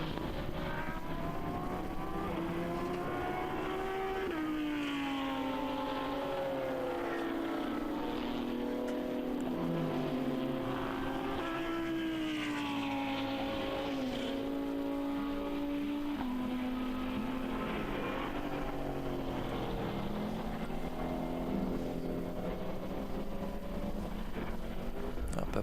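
GT3 Lamborghini and GT4 BMW touring cars race at BalatonPark in an endurance event. Engine tones rise and fall continuously across the whole stretch as the cars pass through corners, with several engines overlapping and no talk.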